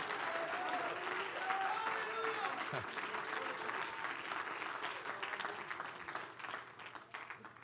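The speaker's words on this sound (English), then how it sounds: "I wish somebody would clap your hands like the Holy Ghost is moving." A church congregation clapping during a sermon, a steady wash of many hands that runs throughout and fades slightly near the end, with voices mixed into the noise.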